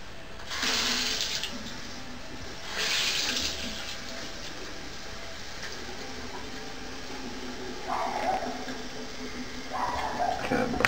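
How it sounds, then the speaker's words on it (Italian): A bathroom tap opened only slightly sends out two short gushes of running water, then quiet room tone with a faint trickle near the end. "adesso apriamo un pochettino l'acqua."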